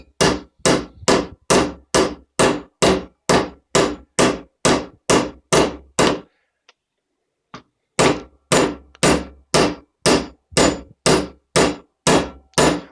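Steady, evenly spaced hammer blows ring out as a clutch hub is seated during reassembly: a fast run of loud, sharp clangs, a pause of about two seconds, then another rhythmic series of strikes, with no talking.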